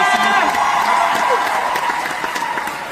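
A live audience applauds performer Idriss Takane with loud, sustained clapping and cheering, a dense wash of crowd noise with scattered whoops, mixed with some voices.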